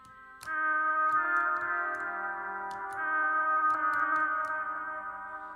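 A voice run through a synth resonance effect becomes a sustained, metallic, droning tone with eerie ringing overtones and faint clicks, loud and close, with no plain speech audible.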